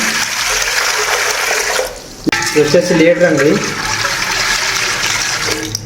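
Water gushes steadily into a one-litre measuring jug, breaks off briefly, and then continues as a voice speaks a few words over it.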